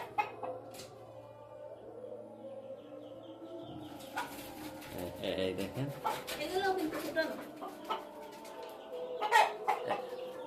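Chickens near a 264-egg automatic incubator cluck and chirp at moderate distance while someone talks over them.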